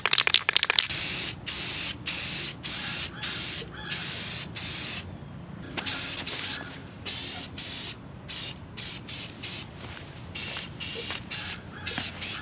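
Short bursts of an aerosol can spraying semi-gloss black paint onto a motor frame, a dozen or so hissing sprays of varying length with brief pauses between, close and fairly loud.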